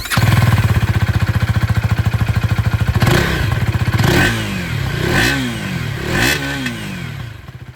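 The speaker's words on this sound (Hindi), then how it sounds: "क्योंकि बात इंजन की कर रहे हैं तो यहाँ पर ये जो अंडरव्हील एग्जॉस्ट है इसकी आवाज़ भी आप लोग सुन लीजिए।" A KTM Duke 250 motorcycle with an underbelly exhaust idles with a steady thrum, then revs up sharply four times in a row, each blip rising and falling back, close and loud.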